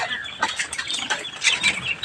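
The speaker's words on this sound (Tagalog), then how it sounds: "Lagyan natin ng pagkain ang mga manok niya kasi wala siya dito." Chickens cluck and chatter at a backyard feeding, a busy cluster of short, overlapping calls that rise and fall across a couple of seconds, with no talking.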